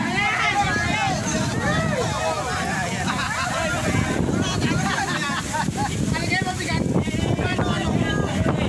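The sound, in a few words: strong wind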